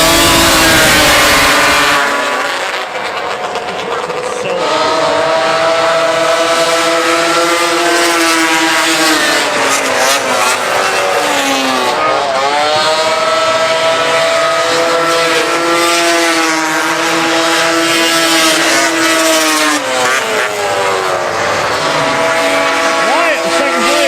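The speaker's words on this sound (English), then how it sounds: "we finished the evening with some races under the lights" Race cars run on a track at night, their engines loud and near, surging and revving in repeated rising and falling sweeps as they accelerate and pass.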